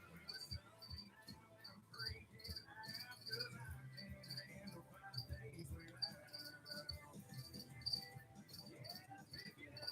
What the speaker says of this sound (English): I gotta put the crickets in the room, bro. That's so annoying.